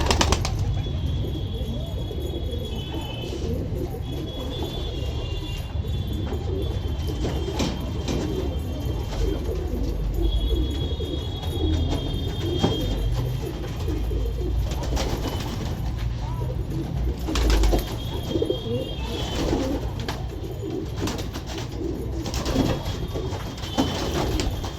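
A newly hatched male pigeon is released among others, with soft cooing and bursts of wing flapping over a steady outdoor background hum and occasional voices.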